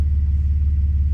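A Toyota 4Runner drives slowly while towing a hitched John Deere 594 rake, giving a steady, close, low engine rumble with an even pulsing throb and no talking.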